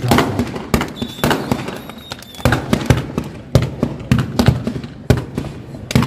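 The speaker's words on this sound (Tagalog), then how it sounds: "pinaalalahanan din ni Stomo ang mga kapulisan na iwasan ang indiscriminate firing at paggamit ng mga illegal na paputok" Illegal firecrackers set off in Metro Manila crack in a rapid, uneven string of loud, sharp bangs that keep popping throughout.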